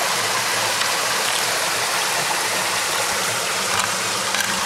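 Excess water is poured out of a bucket of sand beside a river during gold prospecting, a steady loud rushing splash that keeps going without a break, with running water around it.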